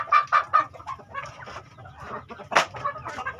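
Hens being raised as breeding stock cluck at close range, a busy run of short, overlapping clucks and squawks with one sharper call near the end.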